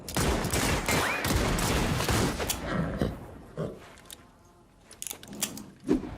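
Gunfire from the Lucky Luke series trailer, a dense fusillade of rapid shots and bursts that fills most of the clip before thinning into scattered single cracks.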